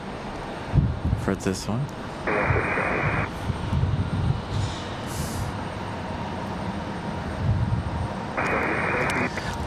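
An Aeromexico Embraer E190 jet at the end of the runway at Raleigh-Durham, spooling up for departure to Mexico City. Its broad engine roar builds and holds beneath someone talking intermittently, with brief clunks early on.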